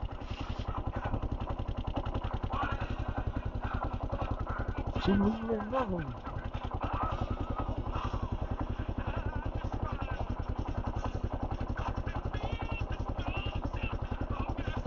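A motorcycle engine runs steadily at idle with a fast, even pulsing throb throughout, close and fairly quiet, with a brief voice-like sound partway through.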